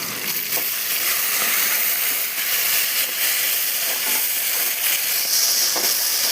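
Tomatoes and onions sautéing in oil for a ground-masala chicken curry, a loud, dense, unbroken sizzle heard up close, with faint stirring taps now and then beneath the hiss.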